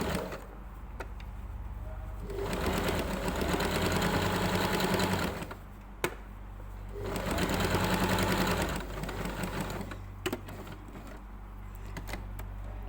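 Sewing machine running gathering stitches on fabric for a puff sleeve, two steady whirring runs of a few seconds each with a pause between, then quieter handling.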